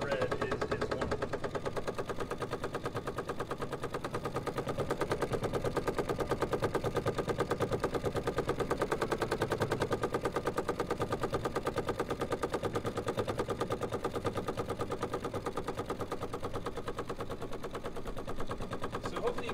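Luminaire XP2 sewing machine quilting in the hoop, a rapid steady needle chatter running continuously at close range for the whole stretch with no voices over it.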